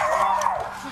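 A police canine gives a brief whining yelp, close and moderately loud, lasting under a second with voices faintly around it.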